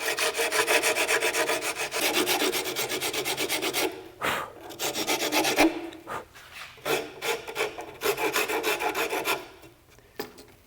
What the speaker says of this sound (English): To cut out the excess material, use a file or a fine-toothed rasp.